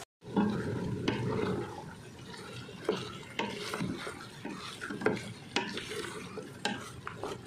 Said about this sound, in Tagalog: Then isunod naman natin itong Baguio beans. Mix natin.